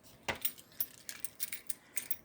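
A bunch of keys with a glowing tritium afterburner tag jingles in a hand, giving off a series of light metallic clinks and rattles in small clusters, close by and fairly quiet.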